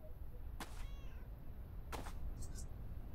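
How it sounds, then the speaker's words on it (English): A cat meows inside a video game, with two distinct drawn-out meows a little over a second apart and a faint chirp after, all heard over a steady low background hum. "Did you just meow?"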